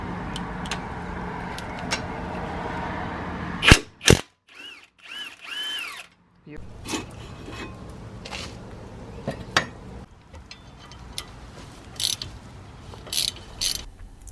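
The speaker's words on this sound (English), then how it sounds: "I'm using a powerful high torque impact driver on these" A powerful high-torque impact driver works brake bolts on an Impala's front brakes, firing in short loud bursts with brief pauses and a quieter gap between, amid workshop clatter.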